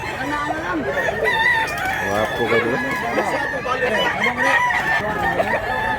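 Two-year-old bullstag rooster crowing close and loud, a long cock-a-doodle-doo with clucking from other fowl, someone talking over it.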